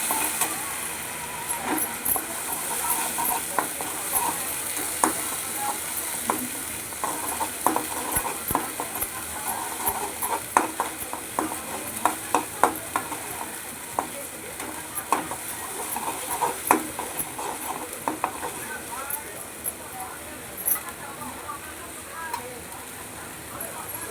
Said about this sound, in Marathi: तेलात टाकायचं आणि असं हलवून घ्यायचं.